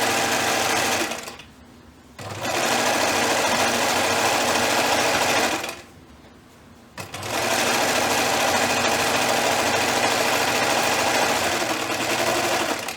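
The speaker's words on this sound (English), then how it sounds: "I'm just stitching along that folded edge." Sewing machine running in bursts as it stitches the folded hem of a pajama pant leg: a loud, rapid mechanical whir with two brief pauses, then stitching resumes steadily.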